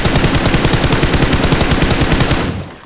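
Rapid automatic gunfire from a mobile shooter game, a steady loud burst of closely spaced shots lasting about two and a half seconds before cutting off.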